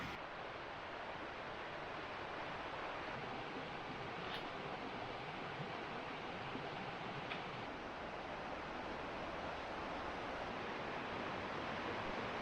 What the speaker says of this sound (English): North Harper Creek is already proving to be a spectacular waterway